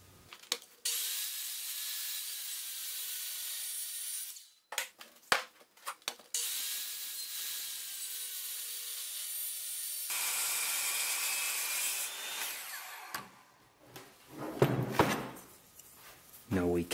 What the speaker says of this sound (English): The power saw's depth has been set to 1 inch deep, and that will make just a shallow cut